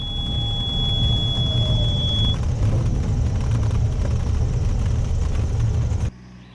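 Light aircraft engine droning steadily and loud through a landing approach with small throttle adjustments, a faint whine fading early, then cutting off abruptly near the end.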